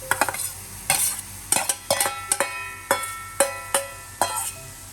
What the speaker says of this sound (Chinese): 给它炒大约1分钟这样